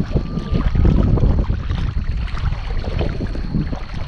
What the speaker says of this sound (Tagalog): Masyadong maalon lang,